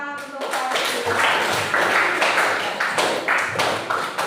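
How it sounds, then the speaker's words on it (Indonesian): A ninth-grade class claps for a classmate in a classroom, starting after a brief spoken phrase. The claps form a dense, broadband burst of many hands that comes in uneven surges and stays loud and close. "tepuk tangan untuk Faiz"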